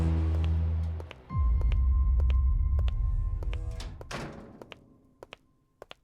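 A door in a horror video game swings shut on its own with a heavy thunk, followed by a low rumbling drone and a few scattered sharp taps fading near the end, with no talking.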